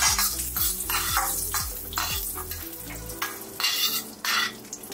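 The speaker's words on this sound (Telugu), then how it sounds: "కాజు వేసుకుని కొంచెం ఫ్రై చేసుకుంటే సరిపోద్దండి." Cashews fry in a pan for chicken kaju fry, a bright sizzle broken by quick rhythmic scraping and clinking strokes of a stirring spoon against the metal, close and busy.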